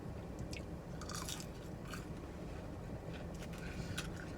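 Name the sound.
crunching onion chips while eating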